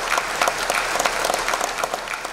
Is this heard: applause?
yes